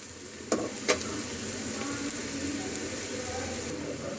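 Onions frying for paneer bhurji, a steady sizzle with two sharp spatula clanks against the pan near the start, then continued stirring, close and without talk.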